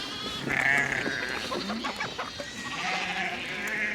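Sheep on a farm in Zambia bleat repeatedly as the flock comes in to feed. Several overlapping calls come from near and far over a steady outdoor background.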